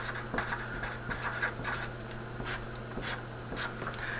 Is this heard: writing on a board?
yes